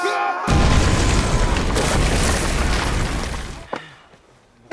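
A grenade goes off in a 1950 Korean War film scene, first as a sudden, loud boom and then as a long, heavy rumbling roar that fades over a few seconds into quieter debris sounds.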